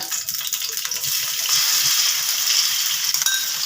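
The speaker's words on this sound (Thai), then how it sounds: "ใส่น้ำมันลงไป น้ำพริกแกงเผ็ด น้ำพริกผัดเผ็ดนั่นเอง" Red curry paste frying in hot oil for a spicy stir-fried catfish dish, a close, steady hiss and sizzle with light stirring scrapes and no talking.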